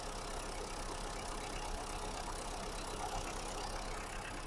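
A Tata Indigo car's sealed engine idling, a steady, even mechanical hum with a low rumble that holds constant throughout, close by and with no talk over it.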